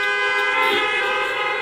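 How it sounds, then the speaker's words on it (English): A steady car horn blast from a congregation gathered in cars for a Shabbat service, a sustained toot with layered tones lasting the whole moment, fairly loud and alone. "I think it's appropriate we all give one horn honk"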